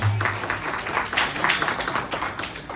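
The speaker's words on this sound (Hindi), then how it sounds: "तो आपके लिए ताली" Children at a kids' camp clap for a correct answer, a short burst of scattered, uneven hand claps at close range with some talk mixed in.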